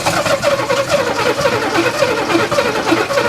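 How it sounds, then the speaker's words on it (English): An engine on a 1961 Ford Falcon pulled from a graveyard is cranked with a weak battery, a steady, loud, continuous churning drone with a slight pulsing rhythm close to the microphone throughout. "Sounds like the battery's starting to die."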